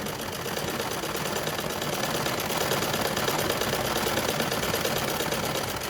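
A sewing machine runs steadily, stitching a plain seam with a 1.5 cm allowance through two pieces of fabric. Its rapid, even whirr and needle chatter stay close and constant throughout, with no talking.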